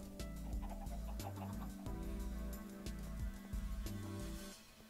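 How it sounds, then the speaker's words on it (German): Chickens in the Minecraft video game cluck and squawk repeatedly as they are struck and killed, heard over a steady, loud game music backdrop with no talking. "dezimiere gerade unsere Hühner."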